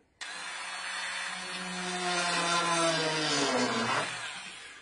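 A cordless power tool whirs up and drives a metal screw into a prop rifle built from garbage, one continuous rising whine that strains and drops in pitch near the end before cutting off.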